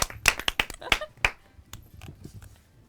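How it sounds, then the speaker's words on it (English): Scattered hand claps from a small group applauding a contestant on a student-produced TV quiz show, a burst of loud sharp claps that thins out after about a second into faint sparse claps and murmur. "Let's give a round of applause to Sanggari for answering that one right."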